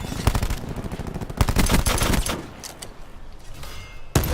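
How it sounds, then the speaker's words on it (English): Rapid bursts from the Cordite SMG in Call of Duty Black Ops 4 Blackout crackle loudly and densely in quick succession, thin out to scattered shots, and end with one sharp report. "let's continue our test with the cordite SMG"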